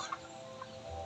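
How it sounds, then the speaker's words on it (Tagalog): Domestic chickens kept beside a rural house cluck softly in a couple of quick, faint calls over low ambient noise. "Alaga ng mga manok."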